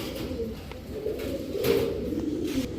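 Racing and high-flyer pigeons cooing nearby in soft, low, rolling calls that overlap in an ongoing murmur, with a few faint clicks behind them.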